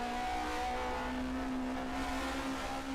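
A 1979 DRM Division 2 race car accelerates hard out of a left-right-left chicane, its engine holding a steady strained drone that climbs slightly in pitch, close and continuous with no voices.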